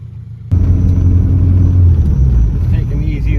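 A tuned car engine rumbles deep and steady at low speed, idling up to a gentle drive, loud and close from inside the cabin, with a brief voice near the end.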